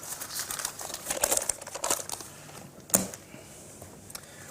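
Paper banknotes crinkling and rustling as cash is handled for a poker game, a run of soft crisp crumples with a sharper snap near the end, close and fairly quiet.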